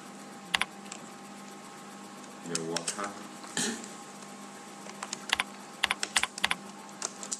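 Light clicking on a computer keyboard set to an Akan layout, sparse at first and then a quicker burst of keystrokes near the end, quiet and close, with a few brief clatters in between.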